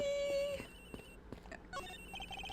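An in-game telephone rings in Ace Attorney Investigations, a bright electronic ringing tone at the start followed by short chiming game sound effects and bleeps.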